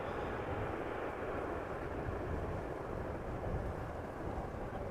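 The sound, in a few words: airplane landing at Amsterdam Schiphol Airport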